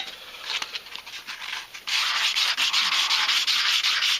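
Spalted yew spoon being sanded by hand with sandpaper, a close, steady scratchy rubbing in repeated short strokes that grows louder and denser halfway through, with no voices.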